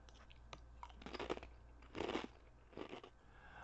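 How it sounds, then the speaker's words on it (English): Thick kettle-cooked Lay's potato chips, in West Coast Crispy Taco and Hometown Lime & Cracked Pepper flavours, crunch under close chewing in a few distinct bursts with softer crackles between, quiet and close with no talking. "that crunch, that is a solid crunch on a potato chip"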